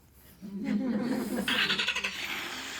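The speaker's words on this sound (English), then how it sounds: "right now, she started the car" A car engine cranks and catches, settling into a steady idle with a brief higher whine as it starts, heard at moderate distance in a fairly quiet setting.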